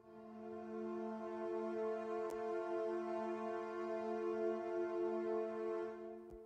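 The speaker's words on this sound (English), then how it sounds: "Sardino violins is the instrument that I used" A sustained sampled violin chord held steady at moderate volume, with a faint click partway through before it fades out.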